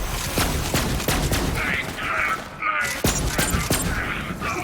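Weapon fire in Borderlands 3, sharp repeated shots landing at irregular intervals through a dense, loud combat mix with crackling impacts and bursts of effects, continuing for several seconds.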